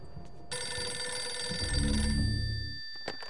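A telephone ringing inside a spooky mansion in the video game Eternal Darkness, a sustained loud electronic ring lasting a few seconds before cutting off, with no talk.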